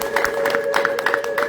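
Crowd applause with rhythmic clapping and a high, sustained trilling ululation running steadily through the short burst, loud and close.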